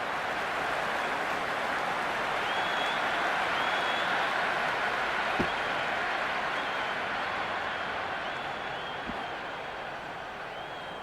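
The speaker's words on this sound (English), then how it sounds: "It's the most enthusiastic crowd you could ever see right now." A stadium crowd in a cricket video game, South Africa against New Zealand, keeps up a steady, dense roar of cheering and applause throughout, loud and continuous with no pauses.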